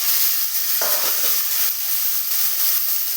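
Alasanda curry is stirred in a pan, a constant close sizzle and hiss with soft scraping strokes from the spoon breaking through it, with no talking.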